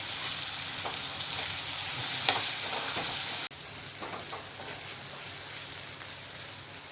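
Onions frying with turmeric in a pan give a steady, loud sizzle with intermittent stirring scrapes close by, and the sizzle drops slightly in level partway through.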